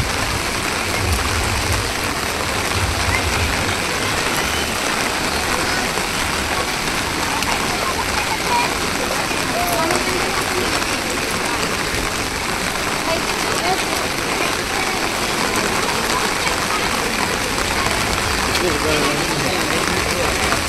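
Rain pouring at the Konark temple in Odisha, a loud, dense wash of falling water and splatter that holds steady throughout, with people faintly audible beneath it.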